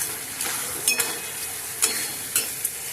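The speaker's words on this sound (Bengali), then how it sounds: "এবারে ততক্ষণ কষাবো যতক্ষণ না মশলা থেকে তেল ছাড়ে।" Spice paste loosened with a little water fries in a pan for a Bihari-style duck egg curry, stirred until the oil separates: a steady, close sizzle broken by several sharp scrapes of the spoon against the pan.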